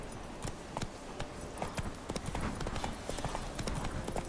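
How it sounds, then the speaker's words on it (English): A horse's hooves clop along steadily in The Witcher 3 video game, a close, even rhythm of hoofbeats that runs without pause over the ground. "This horse is so unresponsive."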